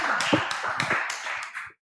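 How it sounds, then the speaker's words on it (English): Scattered, sparse clapping from a small audience at a student speaking event, a handful of distinct close claps over under two seconds that stop abruptly. "Let's give a round of applause for Miranda."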